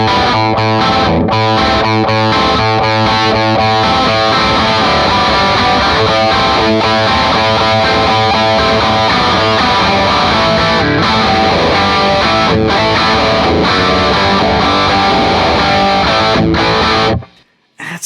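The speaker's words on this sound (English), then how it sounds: "a real tight distortion as you back off." A heavily distorted electric guitar plays loud and steady through a Bad Cat Hot Cat 1x12 tube combo amp, thick and saturated, ringing out for the whole stretch before cutting off abruptly.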